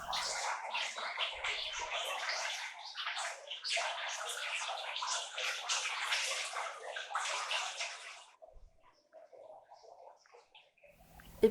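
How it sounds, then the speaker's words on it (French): A garden waterfall in a Spanish-style garden pours as a steady, splashing rush of water for about eight seconds, then drops away to near quiet with only faint trickling. "c'est le son de la cascade dès que l'on pénètre dans le jardin espagnol"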